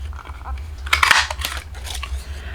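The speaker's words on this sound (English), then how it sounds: "I cut a strip of this, and I'm going to use it to go down and cut this piece right here." Scissors snip through a strip of black paper during card making, a short cluster of crisp cuts near the middle over a low steady hum, with quieter rustling afterward.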